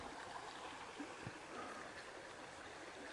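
Water of the Hornad River flowing steadily nearby in a gorge, a faint, even rushing that stays constant throughout with no voices.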